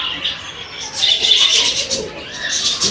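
Mixed birds in an aviary at Shilparamam, Hyderabad, where geese, turkeys, guineafowl, cockatiels, Java sparrows and budgerigars are kept, chirp and call in a dense close chorus, with some cooing and a voice talking faintly.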